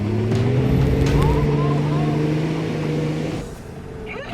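A 4WD engine revs hard as it climbs a steep hill near Lithgow, a loud sustained drone with rising and falling harmonics that eases near the end, with people shouting encouragement over it.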